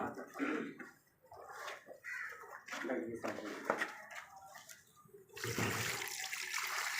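Water is poured into a tub to wash a shirt in detergent, with splashing and sloshing between stretches of speech and a strong, steady rush of pouring water near the end.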